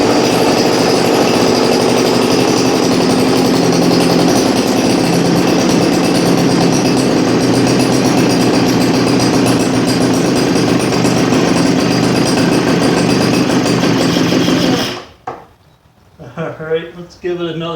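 A Weed Eater 940 leaf blower with a troublesome two-stroke engine runs on half choke, droning loudly and steadily up close for about fifteen seconds before cutting out, after which a voice speaks.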